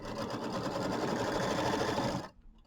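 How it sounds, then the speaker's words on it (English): A sewing machine runs a tack-down line of stitching, buzzing in a rapid, continuous rhythm up close before it stops abruptly into near silence. "I'm going to tack this down. And it's just basically a sewing line"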